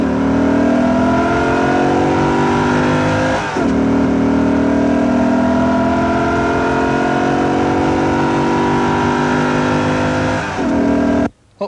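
A Subaru STI engine revs hard on a race track, a loud steady roar that climbs in pitch, breaks briefly at two gear shifts, then cuts off abruptly at the end.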